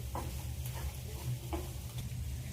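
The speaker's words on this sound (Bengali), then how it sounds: "আমি আবারও ভালো করে চিকেনটাকে 4-5 মিনিট ধরে কষিয়ে নেব মশলার সাথে।" Chicken pieces cooking down with spices in a pan for chicken korma, a soft continuous sizzle broken by a few light stirring scrapes and taps.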